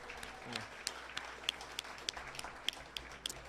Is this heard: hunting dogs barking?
no